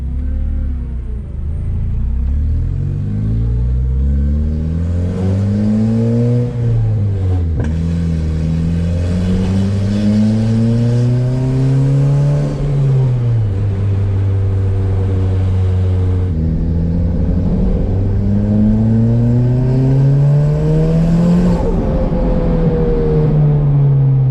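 A Porsche with a swapped-in Honda K-series engine cruises down a street at about 3,000 RPM. A loud, continuous engine drone rises and falls in pitch as it accelerates and eases off, with no voices.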